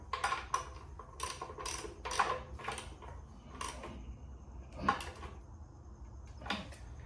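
A wrench works on the sump plug of a Holden Grey motor in an FJ Holden, giving a series of short metallic ratcheting clicks in separate bursts, fairly close with quiet gaps between.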